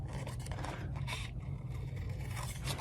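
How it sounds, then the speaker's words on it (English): Scissors fussy cutting around the edges of paper for a pop-up card, a steady run of close, soft snipping and scraping strokes over a low constant hum, with no talk. "So I'm just going to fussy cut it away"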